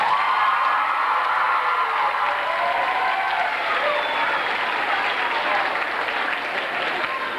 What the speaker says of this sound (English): Give Mrs. Fortner a nice round of applause